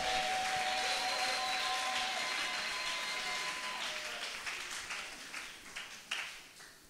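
Church congregation applauding together in acclaim, a dense sustained wash of clapping that gradually thins and fades, with a few scattered claps near the end.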